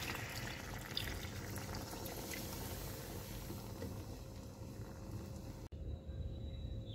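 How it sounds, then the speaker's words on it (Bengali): Water poured into a pot of browned mutton and fried potato curry, a steady broadband splashing and sizzling wash that runs continuously, then cuts off abruptly near the end. "জল দিয়ে দিচ্ছি এবার।"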